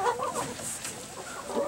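Chickens cluck steadily on a small egg-laying farm, a continuous close chorus of fowl calls with no talking.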